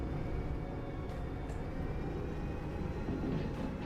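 Diesel locomotive braking through a corner in the train simulator Derail Valley, a steady low rumbling rail roar with faint metallic squeal, continuous and close throughout.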